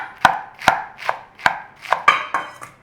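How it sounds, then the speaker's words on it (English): A knife slices through curly lettuce on a cutting board in sharp, crisp strokes, about seven or eight of them at an uneven pace. The sound is loud and close, with no voices. "So just slice it up."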